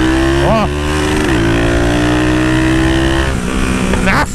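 A 330cc motorcycle engine revs hard and accelerates, loud and close, with rising pitch sweeps and a gear change partway through, while someone shouts briefly over it.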